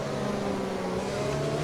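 In the F1 2020 racing game, a Formula 1 car engine drones at a steady high pitch, sustained and even throughout without speech.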